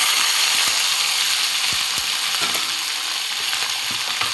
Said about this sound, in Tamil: இப்போ நம்ம கட் பண்ணி வச்சுருக்க இந்த கத்திரிக்காவை ஆட் பண்ணிடுறோம்.